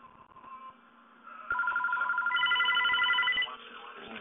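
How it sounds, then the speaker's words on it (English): A house phone rings from a Google Voice call placed over speakerphone: a loud electronic ringing tone that begins partway through and stops near the end, with faint room noise around it. "it's calling my house phone with my Google Voice number"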